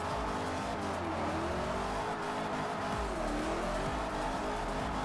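A 1959 Cadillac drifts in a racing game, its engine droning steadily as rising and falling tire squeal and skid noise sweep over it, continuous and fairly close, without talk.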